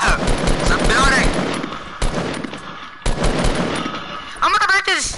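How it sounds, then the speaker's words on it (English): Rapid video game gunfire from a sniper exchange fills the clip in loud, dense bursts that cut off abruptly, with speech mixed in among the shots. "I'm getting sniped from over here."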